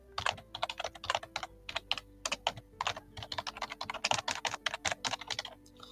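Quiet, close typing on a computer keyboard: steady runs of quick keystrokes with brief pauses between bursts, no talking.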